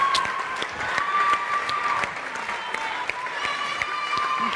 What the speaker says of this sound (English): Love the cheer from down here.